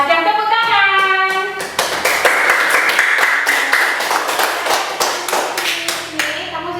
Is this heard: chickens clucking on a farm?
no